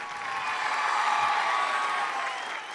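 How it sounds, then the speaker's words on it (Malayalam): A studio audience at a Malayalam TV game show claps in a dense, steady burst of applause that holds at an even level for a few seconds. "അടിപൊളി, നല്ലൊരു കൈയടി."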